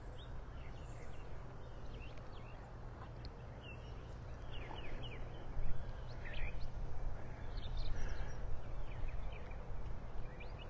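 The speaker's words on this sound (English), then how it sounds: "Listen to the birds." Scattered bird chirps and short calls rise over a steady low outdoor rumble, fairly faint and irregular, with no voices.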